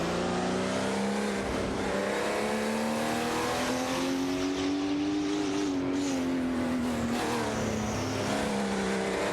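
A Lola T280 and Ferrari 312 PB race in a video game, with engines droning and rising in pitch as they accelerate together, a steady loud whine carrying through without pause.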